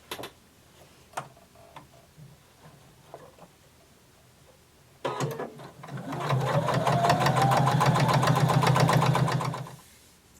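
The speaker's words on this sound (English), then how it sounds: "I'm going to sew close to the edge on both sides" Sewing machine stitching denim belt loops: a few handling clicks, then the motor starts, speeds up and runs steadily for several seconds with a rapid, rhythmic ticking of the needle before stopping.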